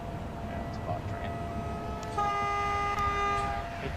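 A train horn whistle sounded in the SimRail train simulator game, a sustained tonal blast in the second half over steady rumbling, with a voice talking in the clip.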